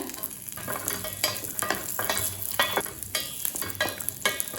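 Rapid sizzling and crackling of cashews, almonds and raisins frying in hot ghee, with bursts of bubbling as they are stirred, close and steady.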